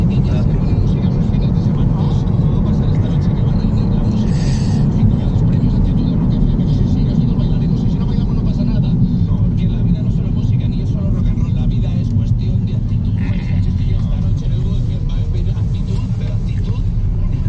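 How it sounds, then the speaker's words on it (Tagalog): Continuous traffic noise on the streets of Getafe, Madrid: a dense, steady low-pitched rumble of passing cars that holds at an even loudness throughout, with a few faint higher swishes drifting over it. "Traffic."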